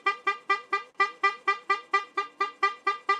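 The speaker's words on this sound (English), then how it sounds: "That was 19 honks Josh" A car horn honks over and over in a fast, steady series of short, evenly spaced blasts, about fifteen of them, clear and fairly close with no speech.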